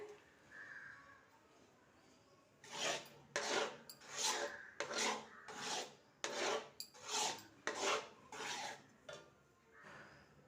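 Coconut milk halva being scraped from a pan into a bowl, a series of about eight rasping scrapes in a steady rhythm, close and fairly loud after a quiet start.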